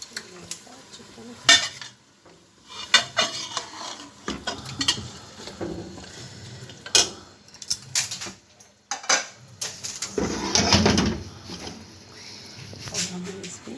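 Chicken being stirred and fried in a pot for potato chicken biryani, with a steady sizzle under scraping spoon clatter and metal knocks, and someone talking throughout.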